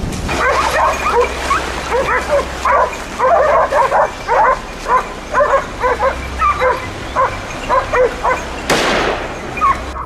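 Trained hunting dogs on a wild hog hunt bark and yip in rapid, repeated bursts, close and loud, with some whimpering, and a sharp noise near the end.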